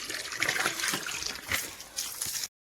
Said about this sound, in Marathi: आता पाणी आलंय तर पाणी पहिला भरून घेते